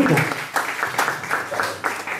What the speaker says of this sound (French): Et on peut les applaudir bien fortement.